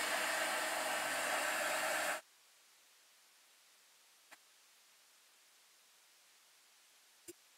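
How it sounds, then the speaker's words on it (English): A hair dryer drying paint on a DIY mercury glass piece made from a grocery store jar blows loud and steady for about two seconds, then cuts off abruptly, leaving near silence with two faint ticks. "I'm going to just hit this with a dryer so I don't smudge it."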